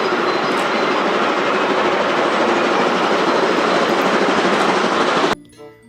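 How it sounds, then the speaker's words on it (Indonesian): Toy steam locomotive train running with a loud, steady rattling clatter for about five seconds, then cutting off abruptly. "ternyata ini adalah kereta atau lokomotif kereta api uap"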